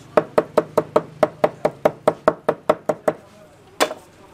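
A cleaver chops spicy kebab meat on a board at a street kebab stall, about fifteen sharp, evenly spaced close knocks in a fast steady rhythm, then a pause and one final heavier chop.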